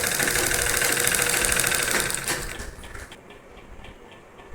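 A sewing machine stitches a belt onto a saree, whirring steadily and close for a few seconds before slowing and stopping, leaving a quiet room.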